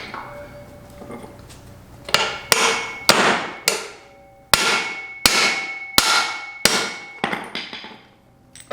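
Sharp hammer whacks drive the bearing cups out of a vehicle U-joint: about eight loud metallic clangs at irregular intervals, each ringing briefly before the next blow, with a quiet lull before the first strike.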